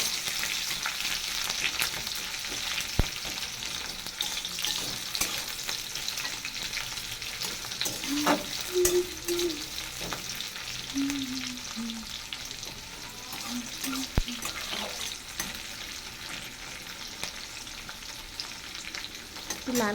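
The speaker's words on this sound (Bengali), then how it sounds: "দিয়ে দিলাম পেঁয়াজ, পেঁয়াজ একটু ভেজে নেব।" Onions frying in a pan, a steady close sizzle running throughout with occasional spatula scrapes and light clinks as they are stirred, and no voices.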